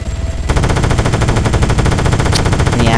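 Sustained rapid automatic gunfire from an ARMA 3 helicopter gameplay session, loud and dense, with continuous bursts overlapping after a brief quieter lead-in.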